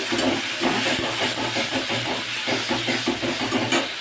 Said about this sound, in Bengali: জল আমার ফুটে গেছে